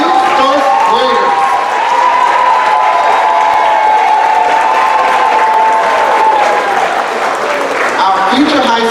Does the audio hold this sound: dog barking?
no